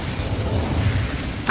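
A fire spell cast in the video game Hogwarts Legacy: a steady, roaring low rumble of flames that holds for over a second, ending in a brighter whoosh.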